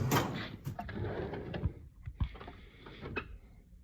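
A workshop drawer holding lug nuts slides open with a few quiet clunks and rattles, close by and fairly soft, with nothing else going on.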